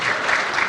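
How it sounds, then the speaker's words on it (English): A brief burst of live audience clapping at a podcast recording in front of a crowd, dense and even for well under a second. "You can clap if you like."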